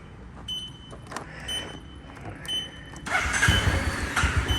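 A light grey 2013 Piaggio MP3 LT 400ie three-wheeled scooter with a water-cooled engine gives a few short electrical clicks and whirs, then the engine starts at the three-second mark and settles into a close, steady idle.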